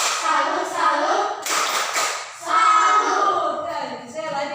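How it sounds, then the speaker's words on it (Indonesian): Primary-school children in a sixth-grade classroom chant the 'tepuk salut' clapping rhythm, loud young voices chanting in unison and punctuated by bursts of hand claps. "tepuk tangan dulu buat ini Priscilla. Tepuk salut, tepuk salut, tepuk salut."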